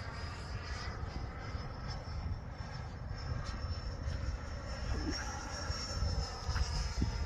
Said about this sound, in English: the sound of the wind shear is a lot more severe on the bigger, on the 105 size planes